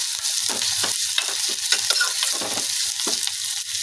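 Green chillies and curry leaves fry in a pan, giving a continuous loud sizzle with repeated scraping stirs from a spatula at a steady rhythm, close up with no voices.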